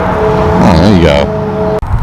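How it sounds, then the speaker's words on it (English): Supercharged American muscle car with its blower sticking up through the hood, engine roaring and revving loudly nearby at a car meet, with crowd voices mixed in. "Talk about American muscle. When you got the blower sticking out that you can't even fit a hood on there."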